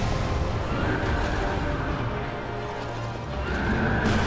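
A horse in the Dark Souls 2 video game lets out a loud, sustained neigh over dense, noisy game sound, with a brighter burst near the end and no talking.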